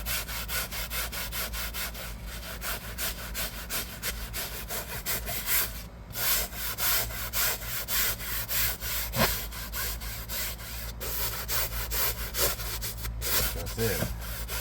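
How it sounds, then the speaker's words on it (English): A small brush scrubs a car's interior upholstery in rapid back-and-forth strokes, a close, continuous scratchy rubbing with a few brief pauses. "So let me get started with my trusty little brush."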